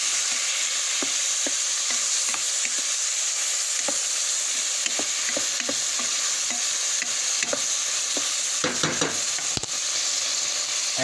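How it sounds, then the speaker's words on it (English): Beef cubes for Hungarian goulash fry in a hot pan with a steady, dense sizzle, while a spoon or spatula scrapes and stirs them in a repeated rhythm and a brief louder clatter of metal comes near the end. "I nearly did too much stirring."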